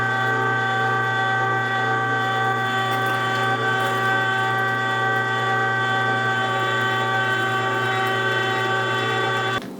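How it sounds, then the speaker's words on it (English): A meat grinder runs through a 4.5 mm plate while mincing meat for homemade sausage, giving a loud, steady motor drone with a constant tonal whine that continues unbroken throughout. "We're only going to grind this once because I have something else I'm going to show you on how to mix this."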